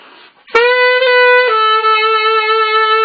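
A tenor saxophone plays a phrase from a solo, starting with a soft breathy note then a bright, loud sustained tone with brief note changes, close and alone without speech.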